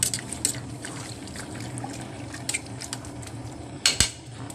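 Sugar being stirred into a pot of boiling pickled bamboo shoots, with faint scraping and clinks of a utensil against the pot and a low bubbling background, plus one sharper knock near the end.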